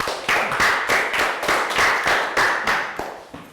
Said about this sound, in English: Round of applause for Team Ice Creams.